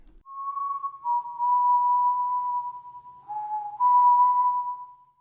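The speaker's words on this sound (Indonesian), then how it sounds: "penonton diperdengarkan hanya dengan sebuah suara siulan" Solo melodic whistling at the opening of the film The Villainess: one clear human whistler carries a wavering tune of sustained notes with small pitch slides, close and steady, alone against silence.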